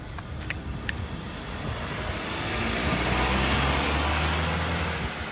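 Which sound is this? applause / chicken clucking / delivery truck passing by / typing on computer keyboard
delivery truck passing by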